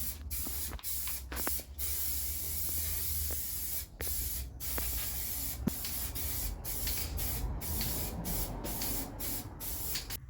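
Paint sprays in repeated short bursts onto a 1975 Vauxhall Viva HC for its second coat, each close hiss separated by brief pauses.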